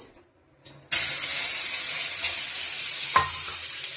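Ingredients, including cumin, are stirred and mixed in a cooking pot, producing a steady hissing, sizzling wash of sound with a brief scrape partway through. No voices are heard.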